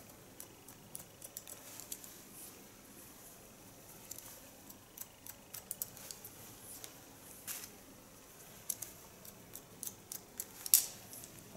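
Scissors point-cutting an older woman's hair during a haircut, giving faint, scattered snips and ticks spread across the whole stretch, close by and quiet, with no talking.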